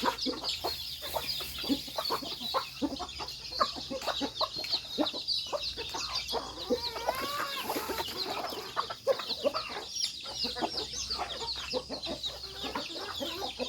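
Native chickens cluck steadily at a farmyard feeding with chicks, a dense run of short, close calls over a constant hum of background noise.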